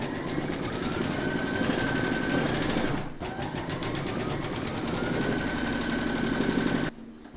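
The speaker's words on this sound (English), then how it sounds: "Pop your hoop into your machine and stitch round number 4 to secure it." An embroidery machine stitches an applique outline for a large cross, a fast even run of needle rattle, close and steady, with one short break partway through before it resumes and then stops.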